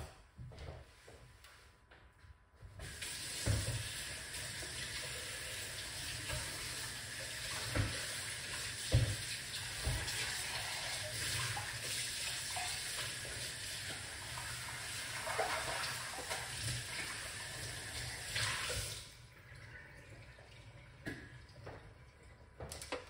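A kitchen tap runs water over an apple being washed, a steady close rush of about fifteen seconds with a few faint knocks, starting and stopping abruptly.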